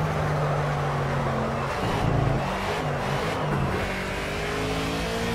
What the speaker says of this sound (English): just it being a Mustang, we definitely need to listen to what it sounds like